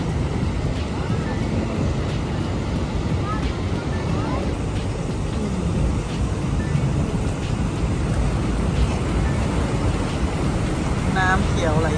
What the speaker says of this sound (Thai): นี่เป็นน้ำตก